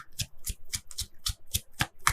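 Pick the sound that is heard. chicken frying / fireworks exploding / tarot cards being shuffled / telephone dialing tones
tarot cards being shuffled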